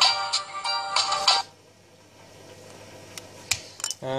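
A Nokia C451 mobile phone plays its short switch-off melody, a bright chiming tune lasting about a second and a half, followed by quiet and a few faint clicks.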